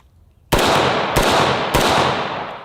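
An AR-15 rifle in 5.56 caliber fires three sharp, loud shots in quick succession, each report ringing out with a lingering outdoor echo.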